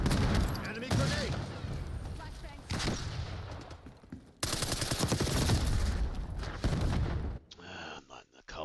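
Call of Duty video game gunfire rattles in dense, rapid bursts of automatic shots and booms, loud and sustained, with brief breaks and game voices mixed in.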